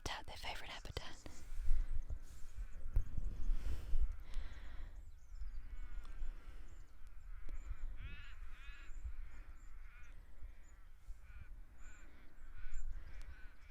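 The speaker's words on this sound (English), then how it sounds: "Those crows." Crows near a still but flowing river give several rough, bleating calls, some in short clusters, under quiet whispered talk.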